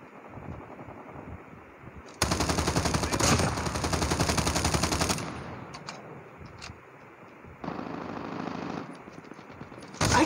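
Automatic fire from an HG 40 Flytrap in a video game test match: two long sustained bursts of rapid machine-gun fire, close and loud, separated by a quieter stretch with scattered distant shots.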